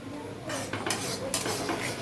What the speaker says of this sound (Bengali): তুমি সব কিছু ভালো করে একটু ফ্রাই করে নেব।